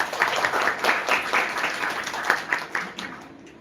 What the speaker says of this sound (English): So huge round of applause to Find.